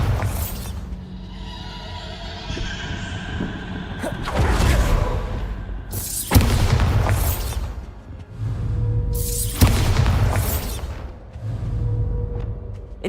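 Bombarda spells detonate in Hogwarts Legacy, three loud crashing bursts spaced a couple of seconds apart over a humming magical ambience, each with a sharp shattering attack and rumbling tail.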